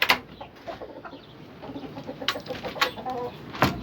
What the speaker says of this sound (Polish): A jeszcze tutaj kogut atakuje kury.